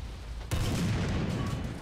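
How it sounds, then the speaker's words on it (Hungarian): A single cannon shot from an Armored Car Mk.II AA in War Thunder, a sharp loud blast followed by a dense rumbling tail and battlefield noise with no talk. "Lőttem egyet poénból a házba"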